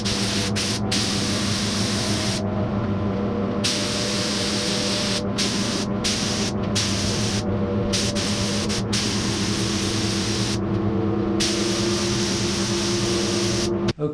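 A spray gun coats leather seat pads with lacquer finish in a workshop, a loud, close hiss in long bursts broken by several short pauses, with no voices.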